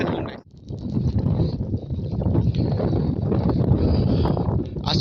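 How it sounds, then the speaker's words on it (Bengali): Strong, gusty wind buffets the open countryside around Kadamkhali village in southern Bengal, a steady loud roar of rushing air and mic buffeting that runs almost unbroken, with only a brief lull near the start. "আজকে কিন্তু প্রচুর পরিমাণে বাতাস,"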